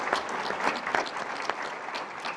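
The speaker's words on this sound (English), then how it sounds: "let's give our staff a round of applause" Audience applause at a Tempe city council meeting, a steady dense patter of many hands clapping throughout, moderately loud with no talk over it.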